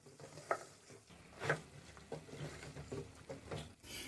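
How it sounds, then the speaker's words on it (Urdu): Beef karahi being mixed in a pan with fresh coriander, dried fenugreek, garam masala and green chillies: quiet scraping and soft stirring, with a couple of sharper utensil clinks early on, and no talking. "اب اچھے سے ہم اس کو مکس کریں گے."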